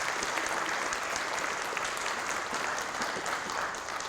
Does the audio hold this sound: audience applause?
yes